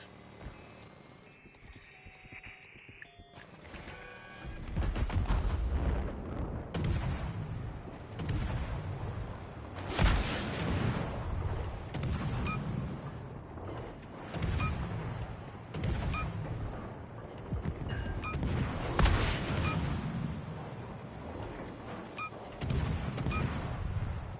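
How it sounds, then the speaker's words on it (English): In the World of Warships Legends video game, missile strikes land as a series of heavy booming explosions with rumbling tails, several spaced impacts over a low battle din, with no voices. "Missile directly on target."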